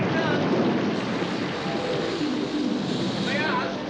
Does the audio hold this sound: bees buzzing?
no